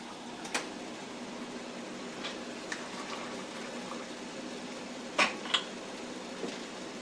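Hot liquid poured from a glass measuring cup into jars, a steady faint trickle with a few sharp glassy clinks and taps against the rims.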